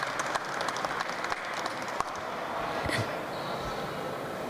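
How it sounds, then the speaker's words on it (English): An audience at a press conference applauds after a sung prayer, moderate steady clapping in a reverberant hall that tapers off near the end. "I'd love to give them a big applause."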